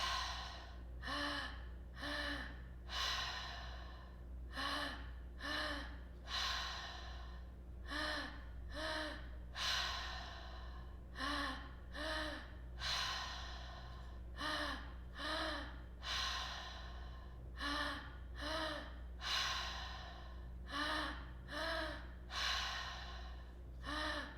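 Rhythmic breathwork cycles, with deep belly and chest inhales followed by forceful mouth exhales, repeating steadily and closely miked with no talk, each breath a distinct gasp-like rush of air.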